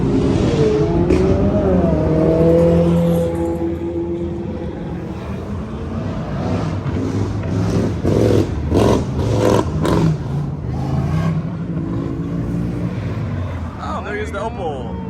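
A car engine revs at a cars and coffee meet, with a loud, sustained roar and a series of rapid throttle blips in the middle, close by, as people talk over it.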